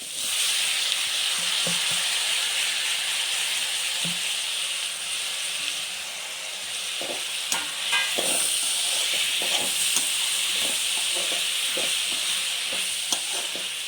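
Tomatoes sizzle steadily in a pan for pasta, a close, continuous frying hiss broken by scattered clicks and scrapes of stirring, with no talking.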